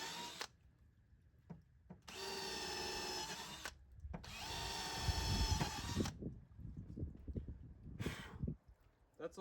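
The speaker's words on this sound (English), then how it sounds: "we're gonna drill these holes, not on the 2x4s" A power drill bores holes in wood for a garden planter, two loud sustained bursts of whirring close by, with a speaker breathing and talking between them.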